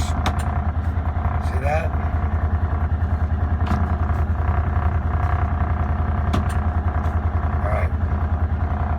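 A Polaris Ranger 1000 side-by-side engine idles steadily close by, with a few brief clunks as it is shifted into reverse, while someone talks over it.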